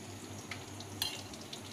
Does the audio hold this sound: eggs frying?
yes